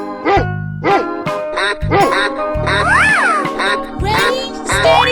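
Cartoon dog barking in a 3D animal slide video game: a series of short, bright, tonal barks and yelps over repeating game music beats, close and loud.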